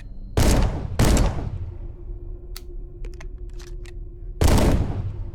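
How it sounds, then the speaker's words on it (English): Three slow, booming shotgun blasts from the video game The Pit Infinity, each with a long decaying tail, the first two close together and the third after a pause of a few seconds, with faint mechanical clicks in between. "That's how it feels shooting the shotguns in this game."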